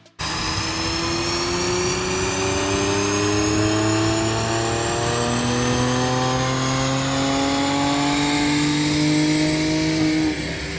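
A car on a dynamometer with a RaceChip performance upgrade and about 384 stock horsepower revs hard and continuously, its engine note climbing steadily in pitch with loud rolling harmonics throughout, no voices over it.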